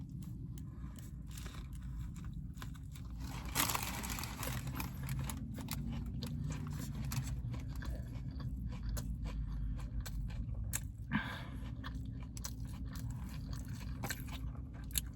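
Close, quiet bites and chewing of a Jimmy John's sandwich with provolone cheese, a steady run of soft crunches and wet mastication with a few sharper crisp bites, no talking.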